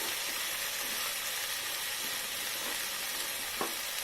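Spices and onion sautéing in a pan for khichdi, a steady close hissing sizzle with a few faint stirring scrapes and one brief clink.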